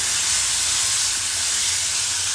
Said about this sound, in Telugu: అన్నీ వేగుతున్నాయి